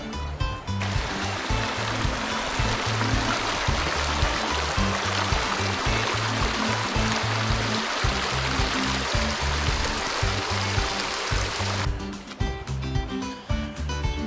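The Little Colorado River near its source in Greer, Arizona, a steady broadband rush of flowing stream water, close and continuous without pause.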